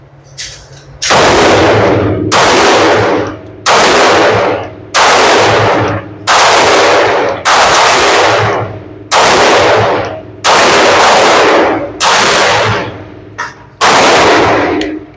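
Palmetto State Armory Rock pistol in 5.7x28 emptying a full magazine at a range: about eleven loud, sharp shots, each with a ringing tail, fired in a steady, fairly quick cadence with no talking.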